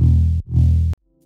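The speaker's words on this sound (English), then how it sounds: "I started with a serum preset I made a while back using FM from B and a little bit of noise to make it crunch." A Serum synth bass patch built with FM and a touch of noise for crunch plays two loud, gritty sustained notes, the first ending in a downward pitch dive, then cuts out abruptly.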